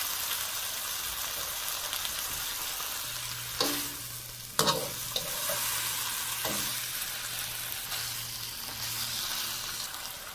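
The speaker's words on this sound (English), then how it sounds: "now I'm gonna add my tomatoes and my onions. Now I'm gonna let this cook up for a few minutes" Tomatoes and onions sizzle and fry in a pan for Peruvian Lomo Saltado, a steady soft crackle broken by a few sharp clanks and stirring scrapes of a utensil against the pan.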